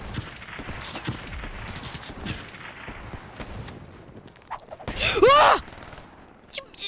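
Assault rifle gunfire in the Call of Duty Black Ops 3 video game, rapid bursts of shots scattered throughout, loud and close, with a heavier blast partway through and a voice talking over some of it.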